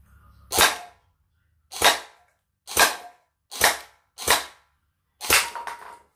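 A JinMing M4A1 J9 gel-blaster-style airsoft rifle fired on semi-auto, six sharp separate shots at uneven intervals of about a second, loud and close with no talk.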